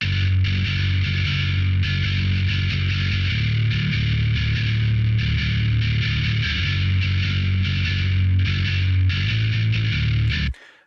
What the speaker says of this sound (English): Now for bass, as usual, I am using the STL Tones amp hub because it just does the thing for me